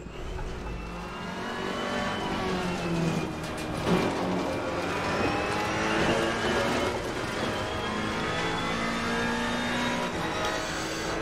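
A Ferrari GT race car in Assetto Corsa Competizione at Brands Hatch, engine revving steadily with rising and falling pitch through gear changes, a continuous close-up roar with brief tire noise.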